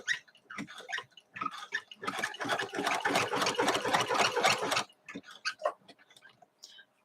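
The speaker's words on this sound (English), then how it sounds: "I'm quilting on the 3-yard quilt that I made over the summer" A home sewing machine quilting a 3-yard quilt, running in a fast rhythmic burst of needle clatter for a few seconds, framed by slower stop-start ticking stitches; close and fairly quiet, no talking.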